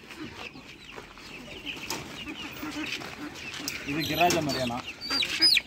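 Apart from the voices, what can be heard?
native country chickens clucking on a poultry farm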